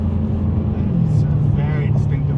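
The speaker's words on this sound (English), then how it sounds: "listen to the whine, listen to that half throttle, that whine is amazing." Dodge Hellcat supercharged V8 at half throttle, a steady low engine drone with a high supercharger whine rising over it, close and loud, with someone talking over it.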